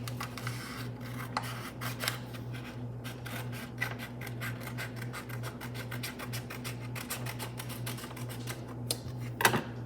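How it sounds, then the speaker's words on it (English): A steady run of crisp, rapid snips and crunches as scissors cut through paper, close up, over a low background hum. "I'm going to take my scissors and I'm going to cut all the way across this line."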